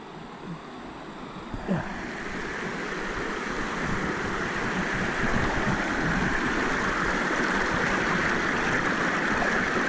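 A found mortar bomb is washed off in a river, with flowing water rushing and splashing continuously up close, growing slightly louder after a brief knock near the start.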